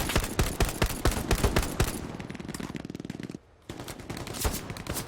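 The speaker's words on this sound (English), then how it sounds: "what I think is the best gun in Hell Let Loose, is the M1 Carbine." The M1 Carbine firing in Hell Let Loose, a run of sharp, fast-repeating close shots, then a steady rapid rattle, a brief silence, and more shots resuming, loud and up front.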